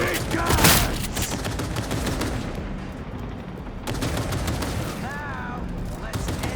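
Heavy gunfire from big guns in the video game Cyberpunk 2077, a dense continuous fusillade of loud shots with a sharp burst near the start and other game sounds mixed in.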